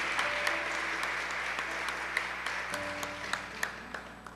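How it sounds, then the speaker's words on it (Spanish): Congregation applauding in a church service during a Spanish-language communion sermon, steady moderately loud clapping over low organ or keyboard tones, with sharper individual claps standing out. "Dele fuerte ese aplauso al Rey."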